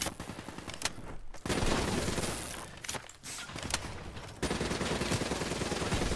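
Gunfire in Call of Duty: Black Ops 3, dense continuous automatic bursts and heavy shooting that fill the whole stretch, with brief lulls between volleys.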